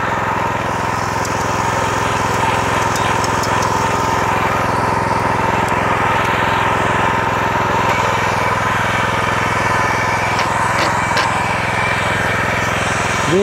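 A Rotakt MF 400 walk-behind tractor's small single-cylinder engine runs steadily and loudly in a potato field, a constant chugging drone with a few faint metallic clicks over it.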